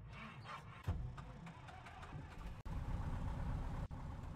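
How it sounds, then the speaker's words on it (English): A small propeller airplane's engine in a flight simulator game cranks and settles into a steady, low rumbling idle, continuous and fairly quiet, with a couple of brief clicks. "let's start the engine and go flying"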